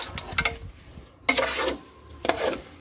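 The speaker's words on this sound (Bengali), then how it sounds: "এখন আমি এইটাকে ভালোভাবে নাড়াচাড়া করব, মাংস সহ চাউলটা ভুনে নেব।" Rice being stirred with beef in a pot for beef biryani, a spoon scraping in three separate bursts with a light sizzle underneath, close and moderately loud.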